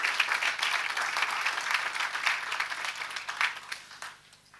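A church congregation applauds during a French-language sermon, a continuous burst of many hands clapping together that holds steady, then thins and fades out at the end.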